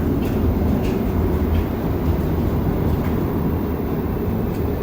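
A Montreal metro train runs on the Green Line between Berri-UQAM and Charlevoix, giving a loud, steady underground rumble and roar that continues without a break and with no voices.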